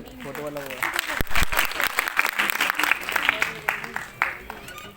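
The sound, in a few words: children applauding each other at award ceremony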